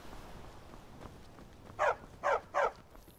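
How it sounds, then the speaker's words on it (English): In the Skyrim video game, a dog barks at a fox: three sharp, loud barks in quick succession near the end, after a quiet stretch of faint ambient noise. "Don't bark at the fox."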